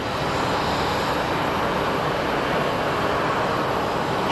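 An Ameriflight Metroliner propeller plane at Phoenix Sky Harbor International Airport gives a steady, loud broadband engine roar that holds evenly throughout, with no voices.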